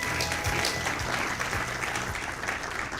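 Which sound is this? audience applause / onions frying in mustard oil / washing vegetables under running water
audience applause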